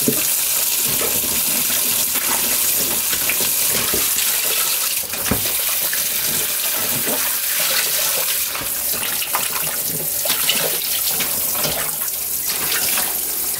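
Tap water runs continuously over salted napa cabbage being rinsed for kimchi, a loud, steady rushing and splashing stream with occasional hand-handling sounds and no voices.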